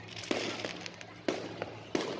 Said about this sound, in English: Fireworks still going.